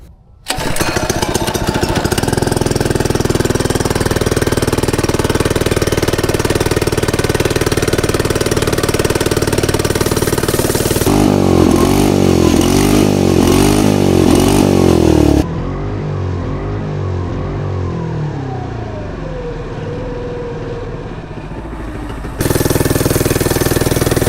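Stock mini bike engine with a missing throttle screw, running loud and close during a speed test with a steady buzzing drone, shifting pitch as it revs up and slows.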